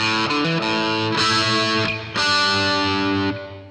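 Loud distorted electric guitar riff with sustained chords and a few quick note changes, heavy and continuous with no voices.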